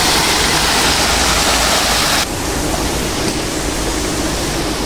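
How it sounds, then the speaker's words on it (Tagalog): A man-made waterfall pouring into the sea at Deep Water Bay, Hong Kong, a loud, continuous rushing roar that shifts abruptly to a slightly duller wash partway through. "May waterfalls na ginawa sila papunta sa dagat yung tubig."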